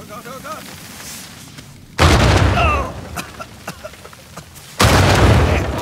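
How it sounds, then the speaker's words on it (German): Explosions in the video game Uncharted 4, catacombs level: two loud, sudden booming blasts a few seconds apart, the second near the end, with scattered smaller pops and crackles between them. "Aber die explodieren mit Sicherheit."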